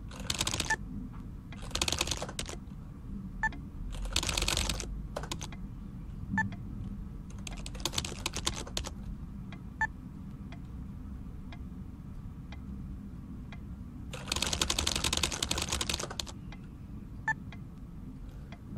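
Keys on a keyboard in the video game Three Twenty One are tapped in short bursts of quick clicks separated by sparse single ticks, quiet and close over a low steady background hum.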